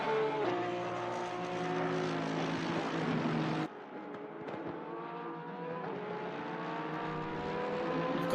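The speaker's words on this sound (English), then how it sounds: "if George Smith was here with me tonight, he would definitely be foaming over the look and sound of this Porsche car right here of Alistair Gillies" Porsche race car from the Technic Motorsports team in a racing video game, its engine droning loud and steady with rising harmonic pitch, a brief dip midway as it shifts, then building again; no talking.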